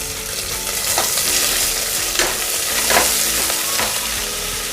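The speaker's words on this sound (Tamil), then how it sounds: "போட்டு நல்லா வதக்கிக்கோங்க, ப்ரௌன் கலர் ஆக வரைக்கும்" Sliced large onion and curry leaves sauté in a pan for chicken biryani, a steady close sizzle with periodic scraping stirs roughly every second, no talking.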